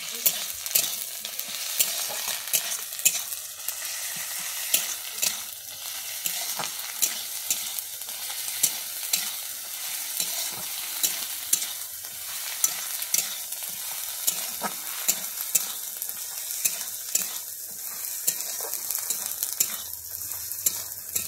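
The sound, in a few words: garlic paste frying in a pan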